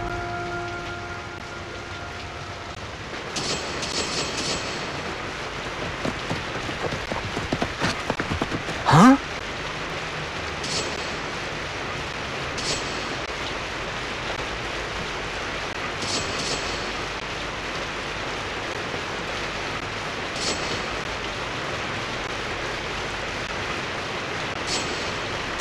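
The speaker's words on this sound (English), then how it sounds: "It's raining." Steady rain falls throughout in a film scene, a dense continuous patter with a sharp swish and brief bursts of action partway through.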